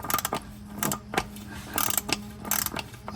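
A ratchet clicks in short bursts while tightening the oil filter housing cap on a third-generation Toyota Prius, close metallic ratcheting with brief pauses between strokes.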